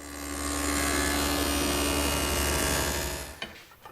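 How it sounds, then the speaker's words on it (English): A table saw's dado blade cuts a slot in a wooden table top, a loud sustained whining roar with a steady hum that drops away as the cut finishes and the blade spins down. "The easiest way to make that slot is with a couple passes through the dado."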